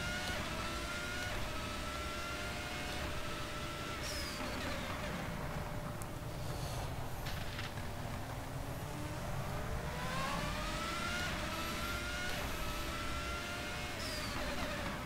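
An opponent's ASR F1 race car in rFactor 2 closes in from behind at Donington 93, with a rising and falling engine whine over the steady drone of the player's own engine throughout.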